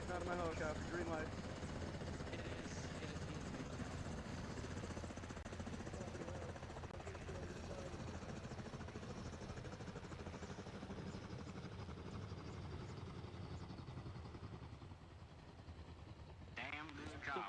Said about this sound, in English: Get out of my helicopter.